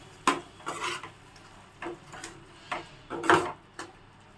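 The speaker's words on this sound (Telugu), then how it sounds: "వీటిని మొత్తం రొయ్యలు కలిసేలా కలుపుకోవాలి" Spoon scraping and clinking against a pot while raw prawns are mixed with cumin powder and garam masala, a series of short, close, irregular knocks and scrapes separated by brief pauses.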